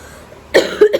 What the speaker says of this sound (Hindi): खांसी आ रही ना, तो एक ही झटके में बोल रही तो खांसी बहुत तेज हो रही है